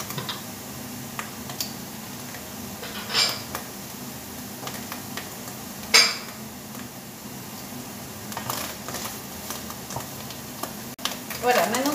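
Frozen morel mushrooms, boiled and cut into pieces, roasting in a pan: a faint, steady sizzle under occasional light clinks and stirring taps from a utensil.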